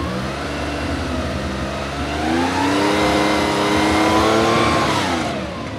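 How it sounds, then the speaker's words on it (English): An air-cooled flat-six in a 1973 Porsche 911 RS Touring, rebuilt, revs up loudly and close, rising through the middle of the clip and easing off at the end, with no voices. "It gives you a flavor of an air-cooled 911."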